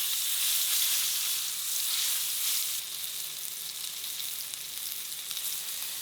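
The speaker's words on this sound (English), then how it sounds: "Sear this rack of lamb off." Rack of lamb sears in avocado oil on a grill, giving a loud, continuous hiss and crackle that eases slightly partway through, with no talking over it.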